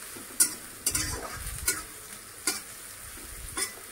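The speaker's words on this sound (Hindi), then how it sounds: "दो प्याज लिया है मैंने, इसको भी फ्राई करेंगे अच्छे से।" Two onions fry on high flame in an oiled wok, a soft steady sizzle punctuated by five sharp metallic scrapes of a spatula tossing them at regular intervals.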